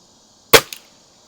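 A single sharp crack from a Cometa 300 USC Premier air rifle firing a JSB pellet, followed a moment later by a fainter secondary snap, then quiet.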